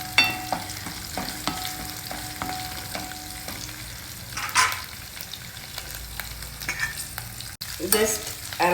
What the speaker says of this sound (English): Just allow the potatoes to lightly get fried